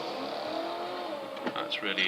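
A car idles with a steady engine drone, then briefly squeals its tyres as it burns rubber, the sharp screeches rising near the end while a person talks over it.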